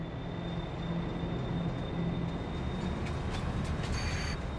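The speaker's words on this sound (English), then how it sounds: "So now that our train is here," A train pulls in during a farming simulator game, heard as a steady low rumble of rolling rail cars with a faint high whine, continuous and fairly loud throughout.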